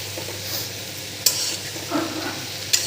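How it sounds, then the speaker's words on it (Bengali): Food being stirred in a hot frying pan, a steady sizzle with scraping strokes and a couple of sharp utensil knocks against the pan, close and alone without talk. "তাই এটাকে ঘন ঘন নাড়াচাড়া দিতে হবে।"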